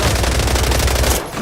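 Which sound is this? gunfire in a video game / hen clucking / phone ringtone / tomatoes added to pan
gunfire in a video game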